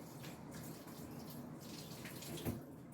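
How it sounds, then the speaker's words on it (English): Hands being washed under a running kitchen tap while baking blueberry muffins, a steady soft splash of water with a small louder splash near the end. "Let me wash my hands."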